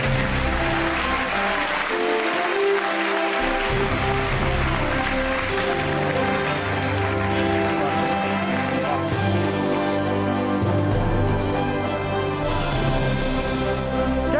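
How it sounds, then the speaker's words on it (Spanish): Applause from a studio audience at the final of the Spanish TV show El Conquistador 2021, a steady wash of clapping over loud music that runs under the whole stretch, with no talking. "un fuerte aplauso para Naya!"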